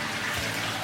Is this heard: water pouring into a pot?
yes